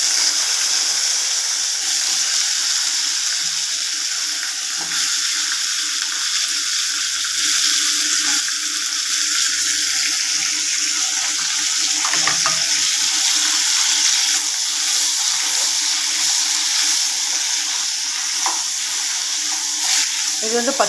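Eggplant frying in a pan over low heat with mustard seeds and curry leaves, a steady sizzling hiss running throughout with faint stirring clatter and talk now and then.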